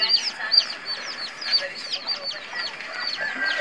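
A cluster of chickens and small chicks cluck and peep continuously nearby, with rapid high chirps overlapping in a busy, fairly soft chatter.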